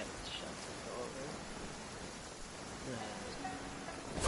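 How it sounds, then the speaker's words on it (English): Steady rain falls in the fantasy world of Genshin Impact, a soft, even hiss of drops with faint voices and light game sounds over it. "Let us find shelter from the rain."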